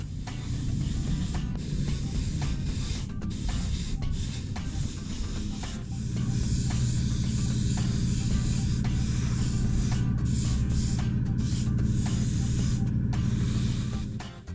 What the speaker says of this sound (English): A coat of gloss varnish to protect the work so far.